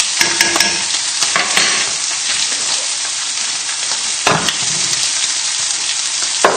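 Lamb being stirred with a fork in a hot pan, with steady close sizzling and frying throughout and scraping, clinking stirs coming in short bursts.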